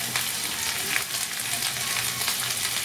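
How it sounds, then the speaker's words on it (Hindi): Chopped onions and bell pepper sautéing in a pan for a vegetarian brown bread chilli, giving a loud, steady close sizzle with faint stirring scrapes. "पहले ये प्याज और शिमला मिर्च थोड़ा सा भून जा जाए"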